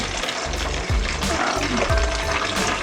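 Food fries in hot oil in a pan, a close, loud, steady sizzle with bubbling crackle and occasional low thumps as the pan is moved, no one speaking.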